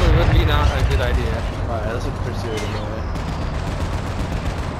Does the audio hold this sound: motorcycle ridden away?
no